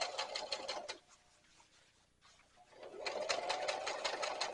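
Sewing machine running along a long canvas hem for an over-the-seat rifle carrier, a steady rapid stitching burst, a quieter pause in the middle, then the motor picking up again close by.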